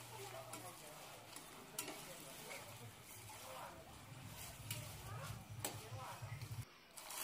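Peas, tomato and potato stir-fried with onion in a pan, with a faint steady sizzle and scattered spatula scrapes and taps, quiet and close.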